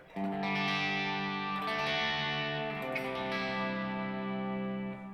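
An electric guitar played through a NUX pedal set to plate reverb rings out in sustained chords, with a warm, wide wash of decay filling the space between strums, clear and alone.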